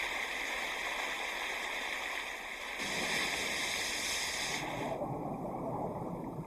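Turbulent river water rushes in a steady, dense roar that shifts in tone twice, without pause, and no one speaks over it.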